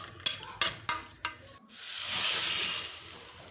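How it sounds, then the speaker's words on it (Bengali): Cubed taro stirred and fried in spiced water in a pan, with a few scraping stirs followed by a steady, loud sizzling hiss close by. "সেগুলো দিয়ে আমি গুঁড়ি কচুগুলো দিয়ে কষিয়ে নেব।"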